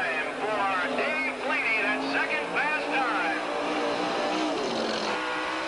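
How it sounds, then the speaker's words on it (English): A sprint car engine drones steadily on a racing oval at a 1985 sprint car event, loud and continuous throughout with a sustained wavering pitch, while an announcer talks over it. "Kelly Kinzer, that 47 Butch and Janie Smith sprint car."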